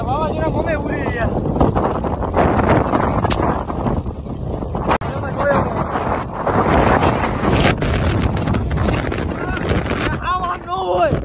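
Strong storm wind buffets the microphone with loud, gusting roars that surge and ease over several seconds, while people talk and call out through it.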